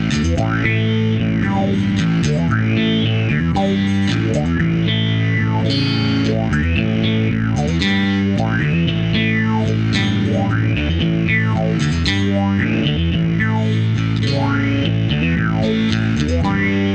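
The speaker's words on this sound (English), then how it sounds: "Now let's try it with the distortion." A bass guitar played through a guitar or bass amp with heavy distortion, with thick, gritty sustained notes and sliding, warbling tones in a continuous riff.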